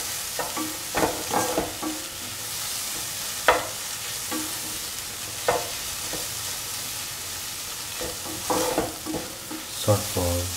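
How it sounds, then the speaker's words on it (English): A spoon stirs scrambled eggs with curry leaves and salt in a hot pan, repeated scraping strokes over a constant sizzle, close and clear, with no voices. "and mix with the scrambled eggs"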